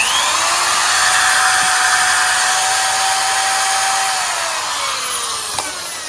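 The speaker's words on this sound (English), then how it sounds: "Full power on an electric power drill" An electric power drill runs at full power off a compact VEVOR 300 W portable lithium power station, a loud, steady high-pitched whine with a slight pitch drop near the end, no talking.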